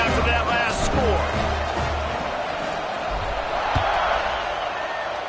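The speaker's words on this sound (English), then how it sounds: "this crowd is buzzing after that last score" Stadium crowd in the College Football 26 video game after a score, a steady broad roar and buzz running throughout, with a commentator talking over it.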